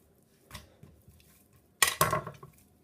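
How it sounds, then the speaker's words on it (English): A knife runs gently along a piece of pork on a cutting board while the meat is stretched out for a Thai pork roulade, giving a soft scrape and then a louder, brief burst of clattering board contact near the end. "So all I have to do is just gently run the knife down"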